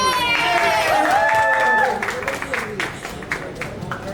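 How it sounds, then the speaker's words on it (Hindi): An audience at a launch event for the show Dreamiyata Dramaa claps and cheers, a thick wash of applause that thins out over the last couple of seconds while voices talk through it. "पहले हम ताली बजा देते तुम्हारे लिए।"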